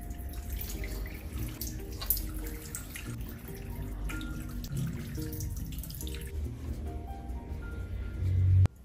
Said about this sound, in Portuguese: agora eu vou retirar esse esfoliante com água.